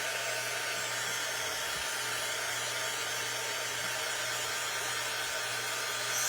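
A dryer blows over wet paint on a craft board, giving a continuous close whir and rushing air with a faint low hum, steady and unbroken, with no voices.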